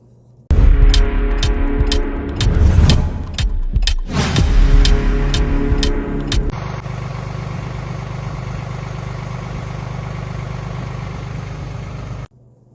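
A truck engine cranks and sputters unevenly with rough surges for several seconds, then settles into a steady, loud idle that continues up close until it cuts off, with no talking.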